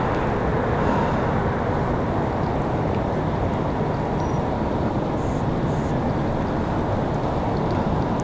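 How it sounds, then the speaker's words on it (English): A Sun Country airliner departing Raleigh Durham airport for Minneapolis, giving a steady, loud broadband engine roar that holds constant throughout, with no voices over it. "Sun Country departing back to Minneapolis a moment ago"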